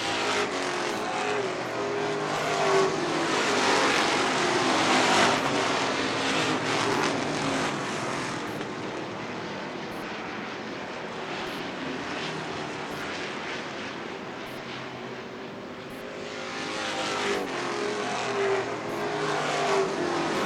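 Race cars roar past on a circuit in a continuous loud engine wash, swelling and fading as cars sweep by, with a constant broadband drone and rising passes near the start and end.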